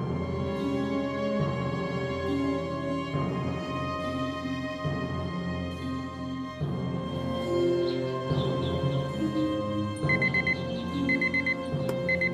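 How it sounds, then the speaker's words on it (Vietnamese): An alarm clock rings in repeated bursts, its beeping tone stopping and restarting at intervals over a dull indoor background, with a higher chirping tone joining near the end. "Khi nào mà chỉnh giờ báo thức sớm dữ vậy?"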